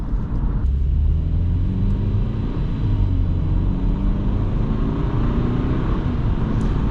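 A BMW 328i with a freshly rebuilt N20 engine drives along, its engine droning and rumbling steadily with smooth shifts in pitch as it pulls, loud and close throughout, with no talking.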